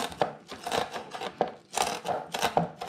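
A knife chops small dried sardines on a board in quick, uneven strokes, each cut a short sharp knock, some grouped in rapid bursts, heard up close and fairly quiet.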